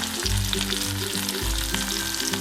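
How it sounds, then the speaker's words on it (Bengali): Large onion and five crushed garlic cloves fry in hot oil, giving a steady, loud sizzle with low bubbling pulses throughout. "এই তেলেতেই আমি দিয়ে দেব বড় সাইজের একটা পেঁয়াজ আর দিয়ে দেব গোটা পাঁচেক রসুন গোটা পাঁচেক রসুন থেঁতো করা"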